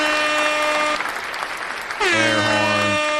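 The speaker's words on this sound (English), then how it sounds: "Air horn" An air horn sound effect blares in two loud sustained blasts, the second one dropping in pitch, separated by a short burst of applause-like noise.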